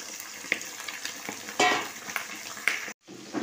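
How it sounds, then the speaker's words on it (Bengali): Chicken pieces, marinated in mustard oil, hit hot oil with browned onions and set off a steady, close sizzle. The frying sounds are mixed with stirring scrapes and clinks from the pot, and the sound cuts out sharply near the end. "এবার মাংসটা আমি তুলে দিলাম।"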